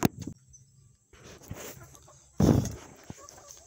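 Chickens in a coop giving a few short clucks and squawks near the microphone, with a louder burst midway and quiet gaps between, no talking.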